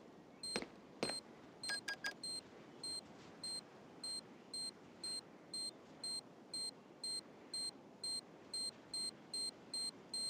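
A planted bomb in the Standoff 2 video game beeps at a steady, regular pace, short high electronic tones repeating about every half second, following a few quicker clicks and tones at the start, over a quiet background.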